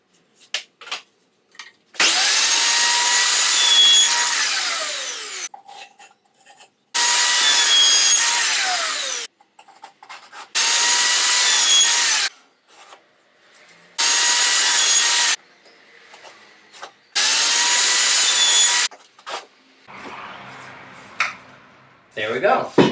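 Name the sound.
miter saw cutting scrap wood dividers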